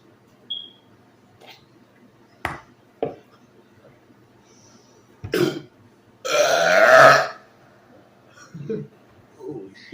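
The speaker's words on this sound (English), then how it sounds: "Do not burp soda inside your mouth." A loud, raspy burp after drinking soda rips out for about a second, set among scattered clicks, small knocks and quieter mouth noises.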